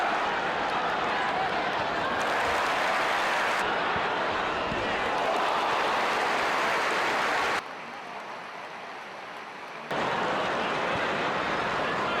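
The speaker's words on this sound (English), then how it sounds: "the crowd roars as the teams emerge from the tunnel" Football stadium crowd roars as Everton and their opponents emerge from the tunnel, with Z Cars playing over the tannoy; a loud, sustained roar of thousands, broken by a brief quieter stretch before swelling again.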